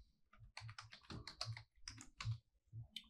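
Someone types an email and password on a computer keyboard with quick irregular bursts of key clicks. The keystrokes are close and crisp, and no voice is heard.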